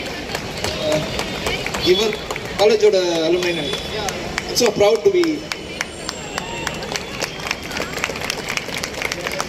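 A college auditorium audience gives a stretch of clapping, fairly faint and mixed with crowd murmur, while a speaker talks over it on a microphone.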